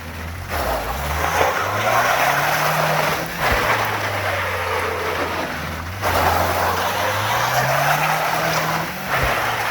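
Subaru Impreza on a stunt test drive doing neutral drops: loud, continuous tire skidding and squeal over a rising and falling engine rev, with brief dips between bursts, close and sustained throughout.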